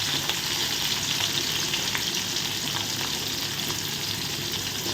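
Thinly sliced onions sautéing in a pan, producing a continuous close sizzle and crackle with soft stirring at moderate volume, and no voices.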